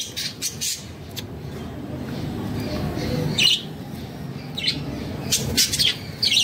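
Pet Java sparrows, a male and a female, chirping near a pond, sharp short tweets and squawks in scattered bursts over a low background rumble.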